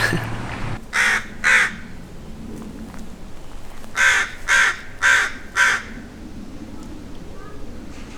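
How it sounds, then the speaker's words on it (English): A parent crow caws down from above, outdoors near a park with a baseball diamond on a summer day: two harsh calls, then a pause and four more loud, close caws in a steady series. "that crow up there yelling at me is the parent"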